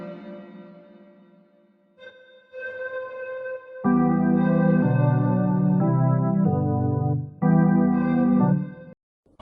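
A pipe preset on the Sakura synth plugin plays a melodic line of sustained, organ-like tones. Notes begin softly, then swell into fuller, louder chords with short breaks between phrases before cutting off.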